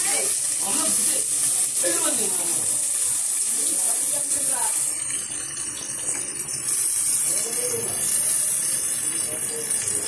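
Curry leaves and chopped onion frying in a pan for a drumstick curry, a steady hiss of sizzling oil beneath intermittent talk, fairly close and continuous.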